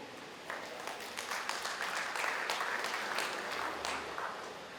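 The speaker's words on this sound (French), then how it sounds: "un grand applaudissement pour eux" An audience at the launch of a senior citizens association applauds, the clapping starting suddenly after a quiet moment and holding as a steady, fairly distant patter of many hands for several seconds.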